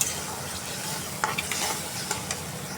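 Chopped tomato stirred into spices (ginger, garlic, coriander, cumin, green chili) frying in a pan, giving a steady soft sizzle with scraping stir strokes throughout, close and moderate in level.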